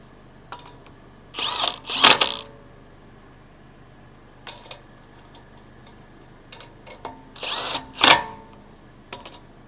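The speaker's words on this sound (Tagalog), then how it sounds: "always remember when you are tightening your lug nuts to use a star pattern" A power tool whirs in two short paired bursts, tightening lug nuts on a 2018 Toyota Corolla wheel in a star pattern, with quieter clicks and taps between them.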